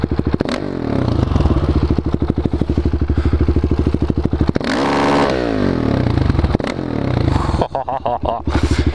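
KTM Duke 690 single-cylinder motorcycle in cafe racer trim, revved hard in a close, loud sound check, with rapid firing pulses rising and falling through several throttle blips and a brief pause.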